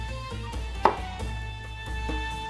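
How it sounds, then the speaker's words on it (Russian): A single sharp knife cut lands on a board as tomatoes are sliced into rounds, followed by faint slicing and tapping sounds in a quiet kitchen. "Теперь нарезаем кружочками помидоры."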